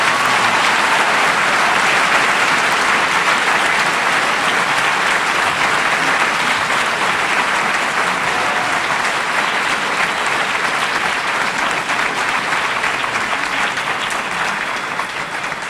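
A debate audience at a 2014 League of Women Voters congressional event applauds both candidates in a long, loud, sustained round that holds steady for about fifteen seconds.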